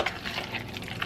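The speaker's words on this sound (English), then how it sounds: "Give it a stir." Egg salad being stirred in a bowl, giving a steady close-up wet scraping and squelching of the creamy mixture throughout, with no talking.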